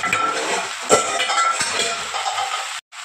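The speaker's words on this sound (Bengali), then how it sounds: "একটুখানি নেড়ে চেড়ে আর এবার চাপা দিয়ে দেবো।" Bottle gourd greens, cooked for a potato and poppy seed dish, are stirred in a pan with a few metallic scrapes and clinks before a lid is clattered on and the sound briefly cuts out.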